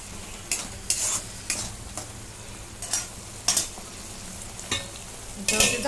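Tomato paste frying in a pan for shev bhaji, stirred with repeated scraping strokes that rise every second or so over a low, steady sizzle, close and alone.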